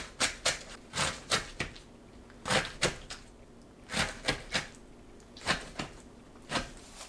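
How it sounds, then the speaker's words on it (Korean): A knife chops aged kimchi into bite-size pieces on a cutting board, giving a series of sharp, close thuds in uneven bursts with short pauses between them. "묵은지를 한 입 크기로 썰어주세요."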